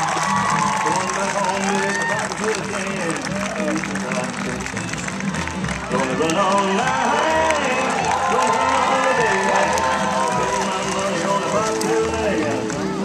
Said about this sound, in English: give him a little cheer. You got to applaud as he comes by.